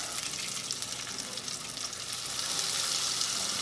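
Battered shrimp sizzle in hot oil at about 350 degrees, a steady, hissing crackle that swells slightly toward the end, close and continuous with no talking.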